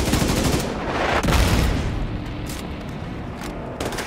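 Sustained automatic gunfire in The Division 2, a shooter video game, aimed at incoming RPG rockets: dense, loud rapid bursts with booming impacts, continuous throughout with no talking.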